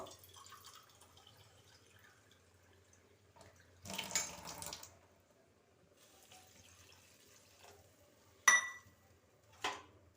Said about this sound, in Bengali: এবারে আমি জল দিয়ে দিলাম আর একটু জল দিয়ে দেবো